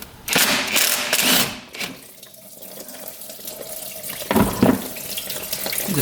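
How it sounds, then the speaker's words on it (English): Coolant pours and splashes out of a freshly rebuilt, overheating UTV engine, a close, loud gush of liquid that eases off, then surges again briefly near the end. "There's a bunch more coolant coming out."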